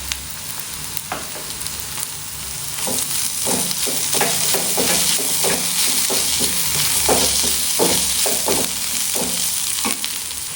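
Soya chunks fry with chili powder, turmeric and coriander powder for a soya pepper fry, a loud continuous sizzle broken by repeated spatula scrapes and stirring knocks, close up, with no talking.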